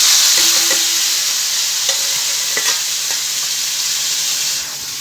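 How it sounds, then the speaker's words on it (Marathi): Tomatoes hit hot oil in a pan with a steady, loud sizzle and crackle, punctuated by a few sharp stirring clicks, no voices. "आपल्याला तेलात टमाटर टाकायचे"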